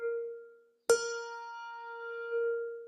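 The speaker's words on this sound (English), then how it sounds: "Mallet lift sounds like this." A handbell is struck with a mallet and then lifted, using the mallet-lift technique. It gives a fading ring, followed by a sharp bright strike and a long, steady sustained ring with clear overtones, quiet and alone.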